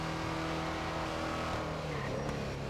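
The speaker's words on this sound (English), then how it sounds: "my car actually does sound better" Steady, loud engine drone of a car in the video game GTA, revving continuously and close throughout with no voices over it.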